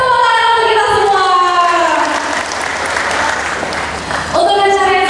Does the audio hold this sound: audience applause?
yes